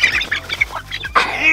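Baby chicks chirp and peep in quick bursts while being caught by hand, with flapping and scuffling close by, ending in a louder burst of agitated cheeping.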